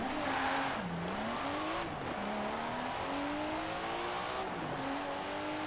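A Nissan Skyline GTR on street tires, 400-plus horsepower, races in Forza Horizon 4, its engine note climbing through repeated revving gear pulls, with a faint squeal of tires; steady and moderately loud, no voices.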